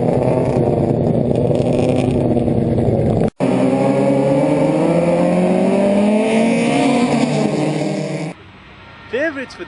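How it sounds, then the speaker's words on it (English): Heavily modified race cars roar close by at a motorsport event, a continuous loud engine drone with rising and falling pitch as they pass, briefly cut off, then fading to a quieter background near the end. "The heavily modified machines racing here are put through some intense action"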